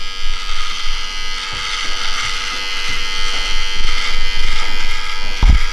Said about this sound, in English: it is the smoothest clipper in the game right now.